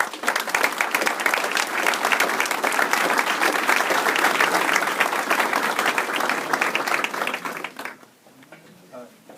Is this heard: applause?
yes